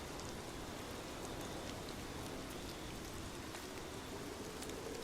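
Steady rain falls and patters on surfaces in a dense, even hiss that holds unchanged throughout, with no voices or other sounds over it.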